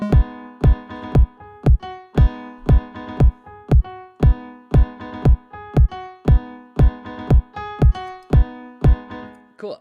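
A repeating piano chord pattern plays over a punchy kick drum, with bright sustained chords and a steady four-on-the-floor thump, loud and close throughout.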